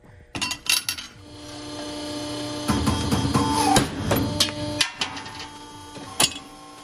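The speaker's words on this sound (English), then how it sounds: "I have a shear, so I'm going to use it" A metal shear cuts sheet steel for a small ribbon burner forge, giving a run of sharp metallic clanks and knocks over a steady low hum, close and fairly loud, with no talking.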